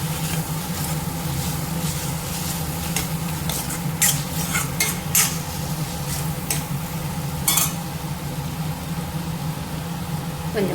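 Masala cooks in a pan under a constant low sizzle, with a utensil scraping and stirring in occasional sharp strokes against the metal; steady, close and unbroken throughout.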